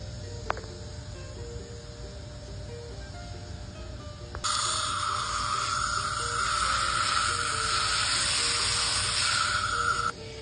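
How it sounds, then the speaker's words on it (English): Garden hose spraying water to rinse dirt off freshly harvested carrots outdoors, a steady bright hissing spray that starts abruptly partway through over a low background hum and continues to the end. "After I hose them off a little bit"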